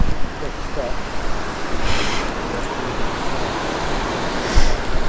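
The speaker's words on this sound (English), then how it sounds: "you can hear a lot of water ahead" Creek water rushing ahead in a cedar forest gully in northern British Columbia, a steady broadband wash heard from a short distance, with wind and faint rustling mixed in.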